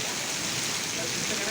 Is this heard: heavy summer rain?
yes